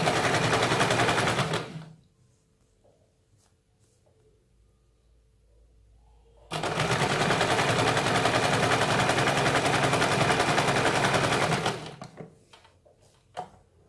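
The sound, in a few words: sewing machine stitching a katori blouse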